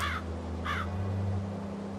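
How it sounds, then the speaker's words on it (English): Large black crows caw in The Lost Crown video game, two harsh calls in quick succession over a low steady hum, fairly faint, with no talk. "Large black crows."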